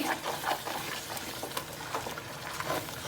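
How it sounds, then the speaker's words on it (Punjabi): Spice masala roasting in a pan for a vegetable dish, with paneer to be cut into it: a steady, close sizzle with scraping stir strokes, no talk over it. "ਇਹ ਆਪਣਾ ਮਸਾਲਾ ਭੁੰਨ ਹੁੰਦਾ"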